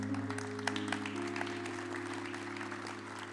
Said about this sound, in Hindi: ज़रा तालियों से आप इज़्ज़त अफ़ज़ाई करें